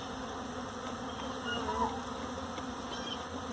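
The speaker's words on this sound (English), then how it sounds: "Today we are going to check on the bees." Honey bees hum around a beehive on a farm during a first hive inspection, a continuous, fairly soft drone with slight swells and no talking.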